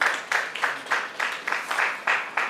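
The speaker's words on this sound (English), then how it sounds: "A round of applause for this, please." Applause from a business growth event audience, a handful of slow, loud, evenly spaced claps near the microphone with no voices over them.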